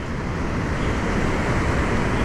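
Rough surf pounds Geribá beach in Búzios during a heavy swell, a loud, continuous broadband roar of breaking waves with wind, no voices.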